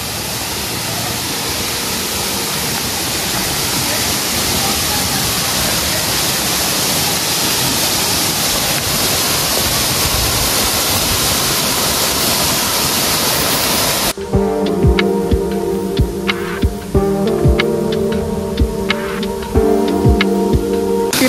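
Chirma Devi waterfall, a hidden fall near Thane, roars as steady broadband rushing water for about fourteen seconds before the sound cuts abruptly to a quieter scene carrying a tonal hum and faint ticking.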